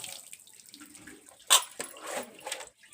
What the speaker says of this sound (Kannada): ತಲೆ ಒಂದು ರೌಂಡ್ ತೊಳೆದಿದ್ದಾರೆ ಹಂಗಾಗಿ ನೀರು ಹಾಕಿದ್ದಾರೆ